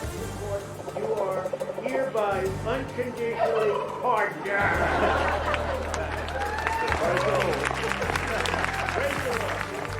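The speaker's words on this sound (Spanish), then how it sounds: "el presidente Donald Trump, como es tradicional, ya le otorgó el perdón a los pavos" Turkeys gobble at the traditional presidential turkey pardon ceremony held before Thanksgiving, with repeated loud calls that overlap steady talk.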